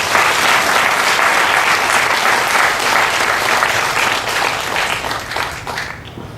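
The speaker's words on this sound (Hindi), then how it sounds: "तालियां बजाइए स्वामी जी।" Dense, sustained applause from a large audience at a spiritual talk, steady loud clapping filling the space for several seconds and tapering slightly toward the end, with no speech over it.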